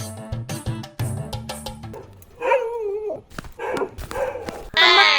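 A dog barks several times in quick, sharp bursts near the start as it bites someone, followed by whining, yelping sounds and agitated noise.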